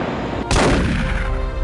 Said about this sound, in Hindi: गोली की आवाज दूर तक सुनाई पड़ी